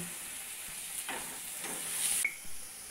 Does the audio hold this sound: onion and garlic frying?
yes